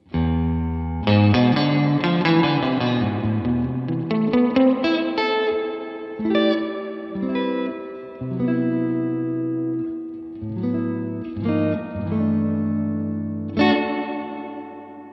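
An electric guitar plays clean chords and single notes through a Fender Hot Rod Deville ML Michael Landau amp with lush reverb, each phrase ringing out and decaying in a spacious tail, close and clear with no talking.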